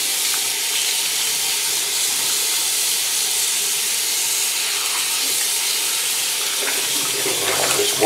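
Tap water running at full blast rinses a casting mold under a faucet, a steady loud hissing splash that stays constant throughout with no talk.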